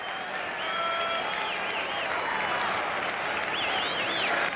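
Boston baseball crowd roaring for Pedro Martinez with two strikes and two outs in a 1999 game against Cleveland, a sustained loud cheer with piercing whistles rising near the end.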